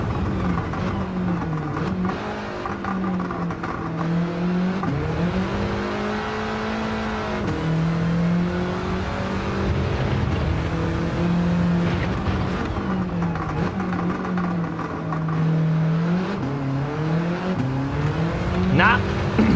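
A race car engine in Gran Turismo 7 drives a lap, loud and close, its pitch rising and falling through repeated gear changes and revs, with tires squealing at moments and a voice talking over it.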